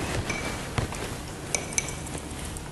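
Chunky craft paint is stirred in a container for upcycling old bottles, giving soft scraping with a few light clinks of a utensil against the sides, close and fairly quiet, with no talk.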